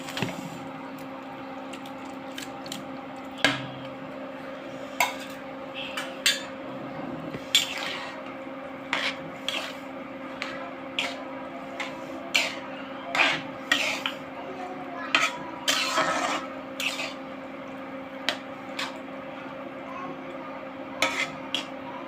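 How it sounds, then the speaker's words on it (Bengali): Soaked leftover rice (panta bhat) being added to a cooking pot for a sour khichuri: wet squishing, plopping and occasional clinks of utensils against the pot, soft and close over a faint steady hum. "এর মধ্যে এখন পান্তা ভাতগুলো দিয়ে দিব।"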